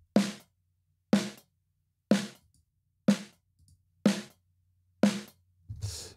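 Snare drum run through a SoftTube 1176-style compressor plugin, hit six times at a steady interval, each strike a crisp crack with a short sustained buzz of snare wires, nothing else heard between hits.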